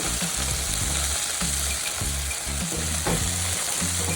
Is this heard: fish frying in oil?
yes